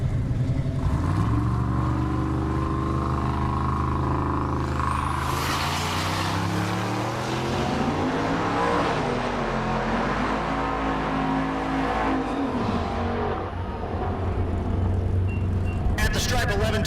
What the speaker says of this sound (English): Ron Augustine in the left lane. Augustine in the Chevelle. Twin turbo LS for power.